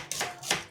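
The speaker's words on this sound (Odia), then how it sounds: "ପିଆଜ କାଟିଦେବା ଆগে" Two crisp knife strokes cut through onions on a board for a village-style chicken curry, sharp and close, with no voices.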